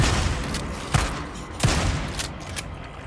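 Shotgun blasts fired at zombies in the video game Days Gone, two sharp booming shots about a second apart standing out over a dense, steady background of game noise, with no talking.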